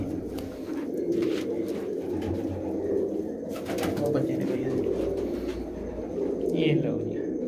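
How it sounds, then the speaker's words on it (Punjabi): Feather-footed pigeons keep up a low, continuous cooing nearby while someone talks over them. "ਇਹ ਲਓ ਜੀ ਰੁੱਖੇ ਪੰਜਿਆਂ ਦੇ ਕਬੂਤਰ ਨੇ"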